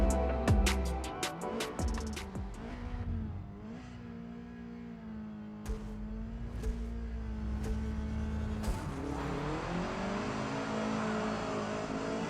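Race car engines roar in a Forza Motorsport multiplayer race, with a steady engine drone rising in pitch, a few sharp clicks early on, and a building rev toward the end.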